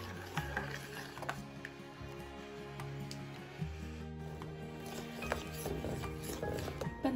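A spoon stirs milk reducing in a pan into a thick, cream-coloured condensed milk, giving soft scraping and bubbling sounds with faint clinks, steady and close but quiet.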